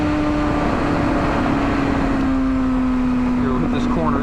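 A 2007 Kawasaki ZX6R motorcycle engine hums in a steady, smooth drone during a gentle throttle roll-on while riding, its tone holding nearly level under loud, constant wind roar.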